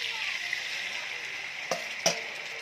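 Broth poured into a frying pan of sizzling tuna jaw adobo, a steady frying hiss with two brief splashy pours near the end.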